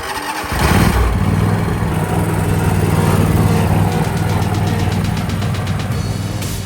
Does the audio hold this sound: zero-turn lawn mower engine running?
yes